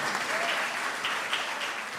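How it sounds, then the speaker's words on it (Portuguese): A church congregation applauds together, a steady dense wash of clapping filling the space, moderately loud and sustained throughout with no clear talk over it. "Você pode aplaudir o Senhor por essa primeira palavra?"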